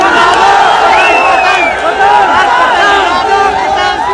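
A large crowd at an AIMIM public rally in Saharanpur chants the Takbir slogan in loud, rhythmic repeated call-and-response shouts, close and dense, with overlapping voices.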